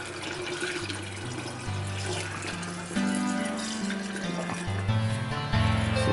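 Distilled water pours steadily into the antifreeze system of a Dodge Dakota, a continuous close splashing flow that runs without pause and without talk.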